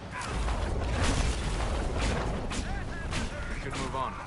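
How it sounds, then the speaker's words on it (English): Magic explosion spell cast by a mage in the fantasy video game Dragon Age Inquisition, a burst of crackling, clanking impacts and whooshing bursts amid battle noise, with a voice speaking over it. "Explosion!"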